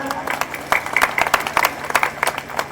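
An audience at a motivational event claps in a moderate, uneven burst of applause, with some voices mixed in under the clapping.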